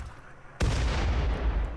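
An auto mortar in the colony game Rimworld fires a shell, giving one sudden booming blast with a lingering rumbling tail, heard alone after a quiet stretch.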